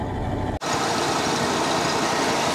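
A Dodge Ram 2500 pickup's V10 engine runs at a steady idle after a no-start repair, a loud, even rumble carrying a slight exhaust leak, broken only by a brief dropout near the start.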